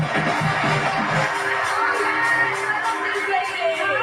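Stadium crowd cheering and whooping during a halftime dance performance on the field, a dense, steady roar of many voices with scattered shouts throughout.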